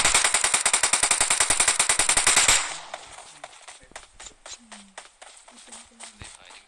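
Automatic gunfire in a video game battle at Razhok rattles loud and fast for about two and a half seconds, then gives way to scattered distant shots and faint in-game sounds.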